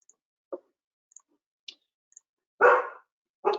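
A dog on the other side of an outdoor fence gives two loud, close barks in quick succession near the end. Fainter clicks and ticks come before them.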